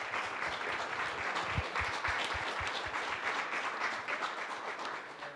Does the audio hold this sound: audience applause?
yes